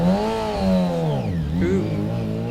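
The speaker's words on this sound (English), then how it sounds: "That engine purrs into life. Sounds like a 4-cylinder engine to me." A Formula SAE race car's four-cylinder engine starts and settles into a steady, fairly close idle hum with slight pitch wavers, heard alone without talk.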